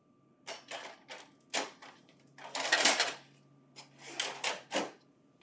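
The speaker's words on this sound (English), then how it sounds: "Insert tray 2." Tray 2 slid back into a CS943/CX94x-series office laser printer, a series of close plastic clicks, knocks and a longer sliding rumble in the middle, with quiet gaps between the bursts and no talk.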